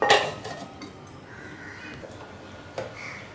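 A metal lid set onto a pot of vegetable dal on the stove gives a bright clank at the start, then quiet, with one more small metallic knock near the end.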